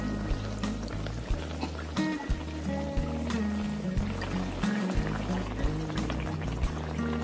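Mango pitha made from flour batter frying one at a time in hot oil, a steady low bubbling and crackle that runs continuously with scattered sharper pops, close and alone without talk.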